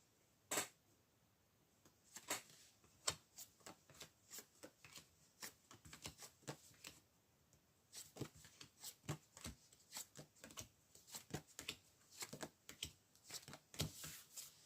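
Tarot cards being shuffled and drawn, a run of crisp riffling clicks and soft slaps in quick irregular bursts, close and fairly quiet, with no talking.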